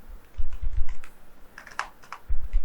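Typing code on a computer keyboard, quick clusters of close clicking keystrokes with short pauses between bursts, heard alone without talk.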